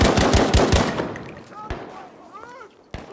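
Rapid bursts of automatic gunfire from the World War II shooter game Battlefield V, loud and dense at first, then tapering into scattered single shots with faint in-game voices and effects in the background.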